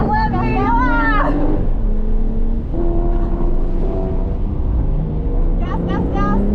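A race car accelerates on an autocross course with a loud engine note climbing through the gears, under close shouted coaching from a passenger.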